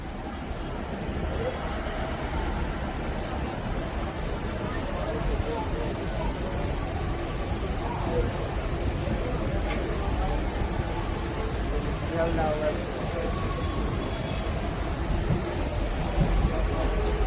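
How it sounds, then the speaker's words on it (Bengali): A Siliguri–Haldibari DEMU passenger train pulls out of Siliguri Junction with a steady low rumble, while someone talks over it throughout. "শিলিগুড়ি জংশন থেকে হলদিবাড়ি ডিএমইউ ছেড়ে যাচ্ছে এই মুহূর্তে"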